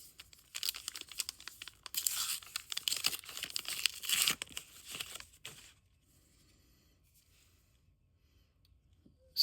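Crisp tearing and crinkling of a foil Star Wars trading card pack being ripped open close up, in rapid bursts over a few seconds before fading to quiet handling.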